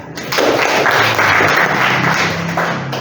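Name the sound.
audience applause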